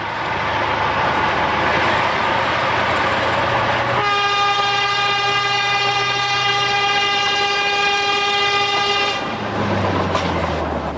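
A passing train in rural Russia rumbles steadily on the rails, with a long sustained horn blaring loudly over the rolling noise for several seconds before the wheel rumble carries on alone.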